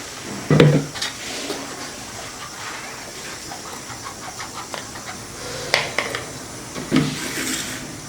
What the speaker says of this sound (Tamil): இப்போ ஜூஸ் வடிகட்டிக்கலாம்.